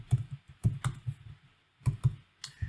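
Someone types a command on a computer keyboard, giving clusters of sharp close clicks with a short gap in the middle, loud and clear without speech.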